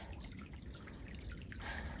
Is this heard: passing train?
no